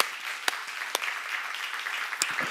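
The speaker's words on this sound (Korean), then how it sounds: "박수야." A church congregation claps during a sermon seminar, a soft, even patter of many hands with a few louder, distinct claps popping out near the start and end.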